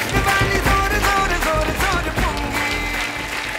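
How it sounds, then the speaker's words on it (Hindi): A studio comedy show audience claps loudly and steadily for guest Shabbir Ahmed, a dense, continuous round of applause with music playing underneath. "जोरदार ताली हो जाए शबीर भाई के लिए"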